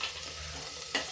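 Sliced onion, long-cut garlic and two green chilies fry in a pan over raised gas flame, a soft steady sizzle broken by a brief stir-scrape near the end.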